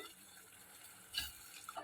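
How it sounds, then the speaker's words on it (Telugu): A short, quiet pour of water splashes into a pot of dal, a brief gush amid low background hiss. "కొంచెం వాటర్ పోసుకొని"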